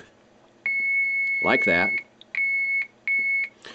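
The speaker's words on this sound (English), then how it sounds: "I pushed it, and I heard a beep" An ICOM 746PRO transceiver with no receiver audio gives a loud, close, steady electronic beep: one long tone, then two shorter ones with gaps between. Someone speaks briefly over the first beep.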